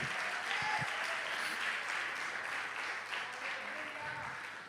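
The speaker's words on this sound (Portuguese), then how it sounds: "aplauda o teu Deus." A church congregation applauds God during a sermon, with steady, moderately distant clapping filling the room, continuous throughout and tapering slightly toward the end.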